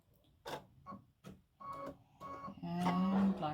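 An embroidery machine stitches a placement line for a St Patrick's Day gnome appliqué on a hat, giving short rhythmic bursts of needle clatter that build into a steadier, louder whir toward the end.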